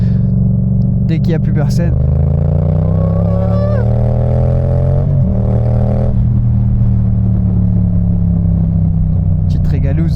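A motorcycle at a stunt-riding event in Saint-Lô accelerates gently, its engine note climbing smoothly in pitch, then easing and building again, loud and close, while someone talks over it.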